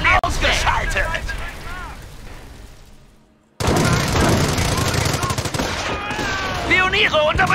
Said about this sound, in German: Stehen unter MG-Beschuss!